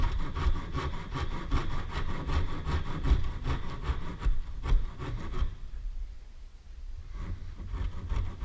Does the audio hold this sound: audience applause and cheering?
no